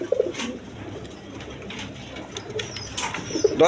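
Yellow Gola pigeons coo softly in a crowded loft, low rolling calls recurring through steady background noise, with a brief wing flutter or rustle near the end.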